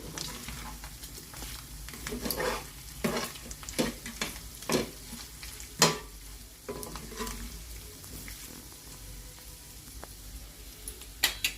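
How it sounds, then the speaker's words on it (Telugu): Slit green chillies stirred into prawns frying with ginger-garlic paste in a pan, a soft continuous sizzle punctuated by irregular spoon scrapes and stirring knocks, close and fairly quiet, without speech. "ఇప్పుడు ఈ పచ్చిమిర్చి చీలికలు వేసి ఒకసారి కలుపుతాను."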